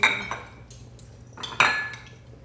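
Dishes and cutlery clink in a home kitchen while lasagna and bruschetta are served, with a few sharp, bright clinks and clatters close by, separated by short pauses and no talking.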